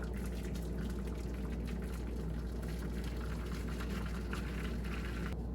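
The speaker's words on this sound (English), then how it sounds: "take boiling hot water and pour it around the edges" Boiling water poured from a kettle or pot around the edges of a baking pan, a steady, continuous splashing pour running alone and close for the whole stretch.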